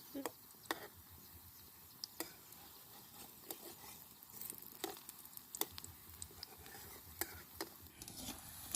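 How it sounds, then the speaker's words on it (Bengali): Helencha greens pakoras sizzling steadily in hot oil, with sharp crackles and pops scattered throughout and a faint scrape of stirring. "তেলটা খুব ভালোভাবে গরম হয়ে গেছে এবার পকোড়াগুলোকে আমি ভেজে নেব"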